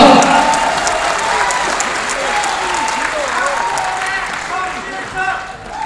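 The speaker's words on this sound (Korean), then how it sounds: "다시 한번 큰 박수를 보내주시기 바랍니다." Loud, dense crowd applause fills a hall at a Cheonan policy debate for a South Chungcheong governor candidate. It sustains steadily for several seconds, with a voice speaking over it.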